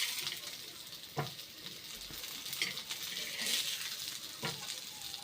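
Goan-style egg masala frying in a pan with oil while being flipped to the other side, a soft steady sizzle broken by a few light clinks and scrapes of a utensil against the pan.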